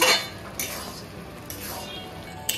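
A spoon scrapes and clinks in a pan as paneer is stirred into a bubbling curry, in several short strokes over a low background.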